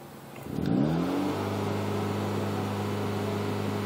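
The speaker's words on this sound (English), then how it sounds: "I'm going to rev it to 3000 RPM and hold it for a quick bit" A 2013 Hyundai Veloster Turbo with a Magnaflow 12886 exhaust revs up from idle to about 3000 RPM and holds there, giving a rising engine note that settles into a steady, loud drone with no talking.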